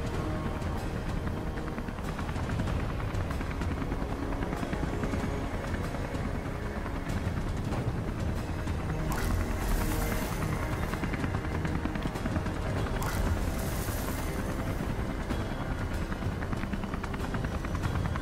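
Helicopter in the video game Beyond: Two Souls, a steady loud rotor and engine drone running the whole time under dense game action noise, with no break.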